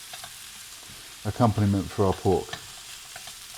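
Chopped leeks sizzle in a frying pan and get stirred, making a soft, steady crackle that runs throughout while a person talks briefly in the middle.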